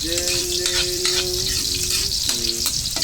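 Onions sautéing in a pan for chicken cooked in tamarind, giving a steady close sizzle and frying crackle throughout, with a tonal hum running through the background.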